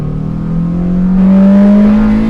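A 1999 Honda Civic Type R engine revs smoothly upward, its pitch rising steadily and swelling louder as it climbs into VTEC, heard close from inside the car.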